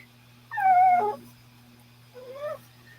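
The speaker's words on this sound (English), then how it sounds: "Hear this puppy?" A puppy howls in a long, rising wail, then gives a shorter, softer whimpering howl a moment later. The cries are close and fairly loud over a steady low hum, with no talking.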